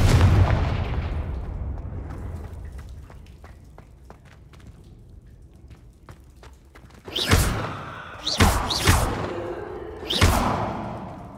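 Confringo fire spells in Hogwarts Legacy detonate as four loud, close blasts with whooshing bursts, following a fading rumble and quiet ticking.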